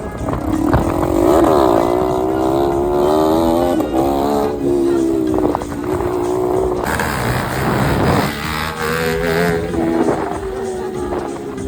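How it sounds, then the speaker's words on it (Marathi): A motorcycle engine revs hard while the rider pulls a wheelie, its pitch climbing and dropping in repeated surges over loud wind buffeting close to the microphone. "आता विल्लीच्या सोबत थोडासा आवाज पण ऐका ना गाडीचा"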